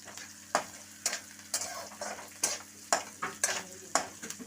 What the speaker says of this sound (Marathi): आता कांदा आणि शेंगदाणे व्यवस्थित परतवून घेते मी मस्तपैकी